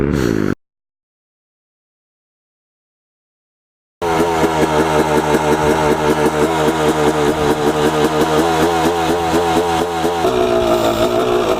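A flooded motorcycle engine after riding through muddy water comes back to life following a brief gap of silence, then runs rough and loud with a pulsing, throbbing rhythm of repeated revs, and its pitch shifts down near the end.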